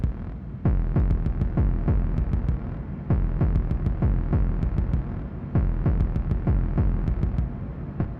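A cyberpunk modular synthesizer patch for industrial hardcore techno pounds out loud, distorted kick-like bass thuds in a steady driving rhythm, topped by sharp clicking transients, with no voices.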